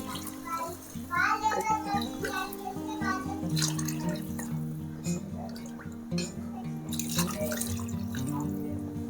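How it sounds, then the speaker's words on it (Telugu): Water pours steadily into a cooking pot of jowar rava kichdi, a running splash that lasts several seconds beneath a voice talking over it. "ఇందులో ఇప్పుడు వాటర్ వేసేసుకుందాము"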